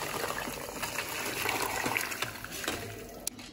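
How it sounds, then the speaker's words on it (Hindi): Chicken stock with spices pours steadily through a strainer with a soft continuous gushing and splashing, fairly quiet and close, with a small clink near the end. "अब जो ये चिकन का पानी है, सारे मसाले हैं, इसे अब हम छान लेंगे।"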